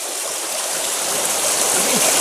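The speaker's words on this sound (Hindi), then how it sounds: "दिखा देते हैं कि ये पानी कहाँ से आता है" Spring water at the Bada Mahadev temple in Narsinghgarh flows in a steady, close, loud rush, a broad hiss like a small stream with no talk over it.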